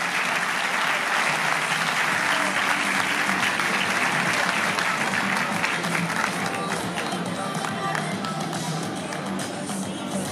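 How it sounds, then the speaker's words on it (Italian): A crowd at a women's under-23 cycling scratch race in Fiorenzuola applauds the top three finishers, sustained, even clapping from many hands filling the whole stretch, with faint voices underneath. "ancora gli applausi per le prime tre classificate"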